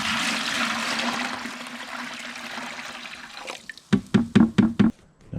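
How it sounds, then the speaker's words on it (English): Water pours steadily and loudly from a gallon jug, then ends in a series of glugging gulps as the jug empties, close by. "Pouring a gallon of water."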